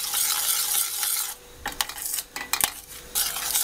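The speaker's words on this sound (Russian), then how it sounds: "будем все время помешивать, чтобы наш крем не пригорел" A saucepan of custard cream (pastry cream) being stirred continuously, with close scraping and clinking of a utensil against the pan, broken by short pauses and sharp taps.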